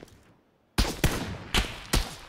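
Gunshots in the PUBG battle royale game ring out as four sharp, close, loud cracks in irregular succession after a brief quiet gap, each with a short echoing tail.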